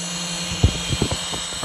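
An 1806 1800kv brushless motor on a thrust test at full throttle, a steady high-pitched whine with a constant tone, close and loud, with a few low thumps beneath it.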